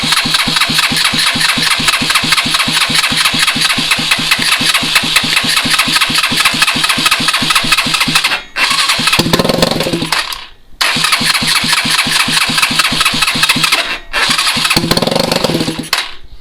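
A swapped engine cranks steadily with a fast, even chugging rhythm, catching and sputtering briefly twice between long cranking runs, loud and close, with no one speaking.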